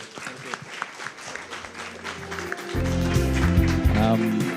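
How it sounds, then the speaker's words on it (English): Audience applause at the close of the final session of an international patent court conference, a broadband wash of clapping that runs throughout, joined midway by a loud low-pitched tone or music, with some voices mixed in. "Please give a big round of applause to the moderator and speakers."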